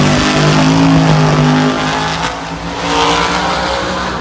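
Monster trucks race side by side at the Monster Jam World Finals, their engines roaring loud and steady and revving up and down with a droning tone throughout. No one speaks.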